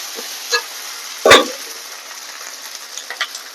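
A paste of ground coriander, cumin and black pepper with ginger paste sizzles in hot oil for a mutton curry, with a few soft spatters and a sharp stir near the middle.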